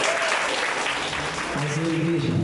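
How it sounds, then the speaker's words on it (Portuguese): Church congregation applauding after a sermon in a Brazilian service, steady dense clapping throughout, with voices and a sung or spoken tone rising beneath it near the end. "em nome do Senhor Jesus, as palmas vão ao Senhor."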